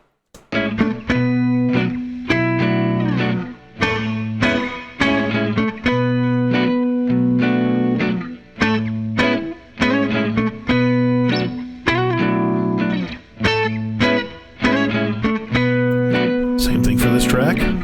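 Electric guitar played through a Line 6 Helix processor with a heavy saturated reverb effect, sustained chords ringing loud and continuous with brief gaps between phrases.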